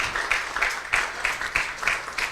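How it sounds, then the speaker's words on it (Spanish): A church congregation claps together during a Spanish-language service, a brief steady patter of rhythmic hand claps at moderate distance, with no speech over it. "¿Cuánto le dan un aplauso a Cristo Jesús?"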